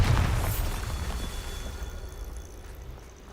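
A Bombarda blasting spell from the video game Hogwarts Legacy, cast during a Merlin trial: one loud, deep explosion that booms at once and then rumbles away over a few seconds.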